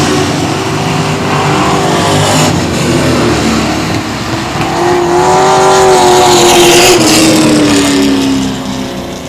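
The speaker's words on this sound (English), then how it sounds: "Had a good little group of dirt trucks right there." Dirt trucks roar around a dirt track at I-37 Speedway in Texas, loud and close, several engines revving and droning together as the pack passes through the turns.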